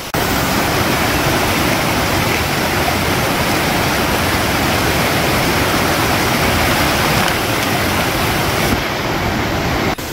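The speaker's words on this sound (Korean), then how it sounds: "너무나 맑고 경쾌한 물소리였고" A mountain stream in a valley of Seoraksan rushes steadily, swollen after recent rain, as a loud, dense, unbroken wash of flowing water that fills the whole clip with no voices.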